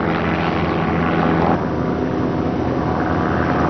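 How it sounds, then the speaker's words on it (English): A light airplane engine drones loudly and steadily as the aircraft comes in to land at a 1990s airfield, with a full, unbroken roar throughout. "Plane coming in from way out there."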